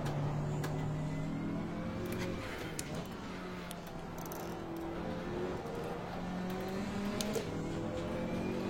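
Race car engine howling through a qualifying lap, a sustained high-revving drone with shifting pitch from gear changes and acceleration, steady and continuous throughout.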